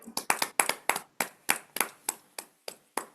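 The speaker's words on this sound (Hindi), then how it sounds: "एक बार तालियां हो जाए।" About a dozen sharp, evenly spaced hand claps ring out during a devotional Zoom satsang, crisp and fairly close, with no talking over them.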